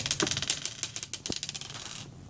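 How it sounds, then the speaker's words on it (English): Dice roll across a table during a tabletop board game, giving a quick run of sharp clattering clicks for about two seconds before settling into quiet. "You each grab a dice. You roll."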